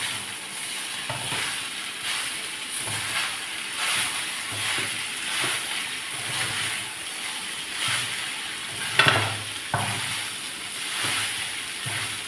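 Lemon rice being stirred and fried in a pan over a low flame gives a continuous soft sizzle, with repeated scraping strokes of the spoon at a steady rhythm and one sharper clatter near the end.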